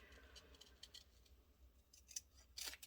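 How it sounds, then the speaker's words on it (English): Quiet, close snipping of large scissors through cardstock, a series of irregular crisp cuts over faint background hiss. "giant scissors for very rough fussy cutting"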